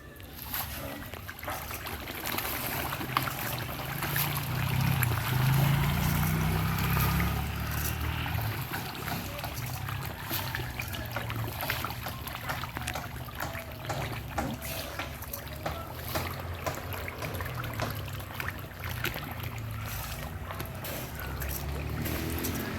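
Water runs steadily through a farm drainage channel about five and a half feet deep, giving a constant low trickling rush that stays close and even throughout, with faint background noise and no clear talk.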